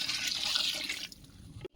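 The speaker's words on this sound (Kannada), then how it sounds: "ಮಟನ್ ಬೇಯ್ಕೊಳಕ ಸ್ವಲ್ಪ ನೀರು" Water poured into a pot of pork cooking with ginger-garlic paste, mint and tomato, a close rushing splash that holds steady for about a second, then tapers off into a brief quiet clatter.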